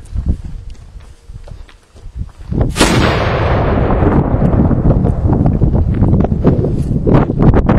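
An AA cannon loaded with eight ounces of FG black powder fires a canister round of quarter-inch bolts at a target 25 yards away. A single huge, close blast hits after quieter outdoor noise and is followed by a long, loud rumble and wind roar.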